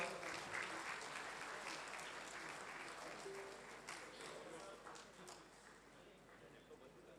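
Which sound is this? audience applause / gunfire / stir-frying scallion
audience applause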